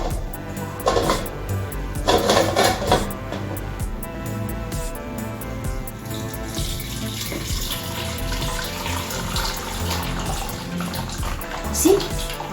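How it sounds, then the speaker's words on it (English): Water runs and drains from blended tomatoes held in a sieve while homemade tomato paste is prepared, a steady close trickle and splash with a few sharp clinks and knocks of kitchenware. "So now I'm going to sieve it and allow the water to drain"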